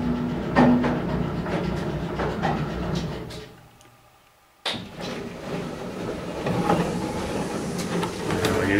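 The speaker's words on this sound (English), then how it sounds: "So our elevator is coming up from the lower floor," Elevator car rising from the lower floor of a home-built elevator project, a steady mechanical rumble and rattle that dips to near quiet midway, then resumes with a sharp onset and continues running.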